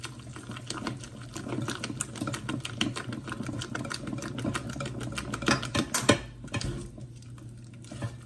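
Tiramisu ingredients are mixed in a bowl with a rapid, steady run of soft clicks and scrapes from a whisk or spatula, moderately close and fairly quiet, with no one talking.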